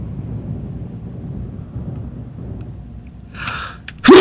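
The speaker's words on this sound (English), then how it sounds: "that time I sneezed my headset off" A person sneezes close to a gaming headset microphone after a stretch of low background rumble: a brief sharp intake, then a loud, forceful burst at the very end.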